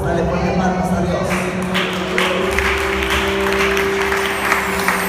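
A church congregation claps loudly for God during a Spanish-language sermon, dense rhythmic palm claps over a sustained organ or keyboard chord, with voices mixed into the noise.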